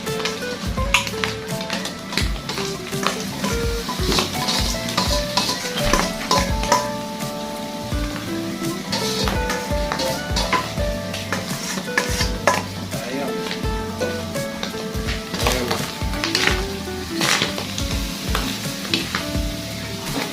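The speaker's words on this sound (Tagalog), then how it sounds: "Halo ulit mga boss. Ayan, para mawala yung lansa." Pork liver and offal for bopis frying in a pan, stirred continuously. A loud, busy sizzle runs throughout, with frequent close scraping and clinks of the utensil against the pan.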